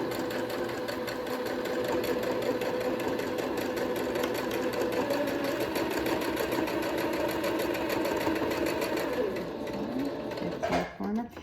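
A sewing machine runs steadily for about ten seconds, stitching a fabric face mask with a metal nose form, the needle passing just beside the wire. It winds down near the end, with a voice talking over it throughout.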